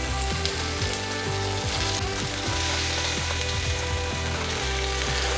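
Shrimp fry in about 20 grams of butter in a pan for a shrimp omelette, giving a steady, dense sizzle with a low hum beneath it and no talking.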